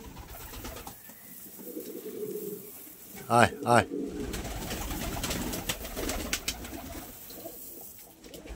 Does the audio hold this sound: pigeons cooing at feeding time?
yes